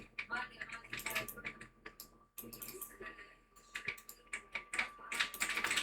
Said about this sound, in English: So type is BeamNG.drive down.